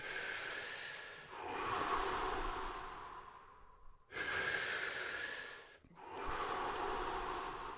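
Deep, full breaths in the Wim Hof method, with long airy inhales and releases repeating in slow cycles, close and moderately loud with brief pauses between them.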